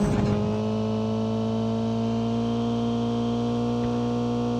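A car in a video game drives with a steady, even engine hum at constant speed. The sound is loud and close, and no one talks over it.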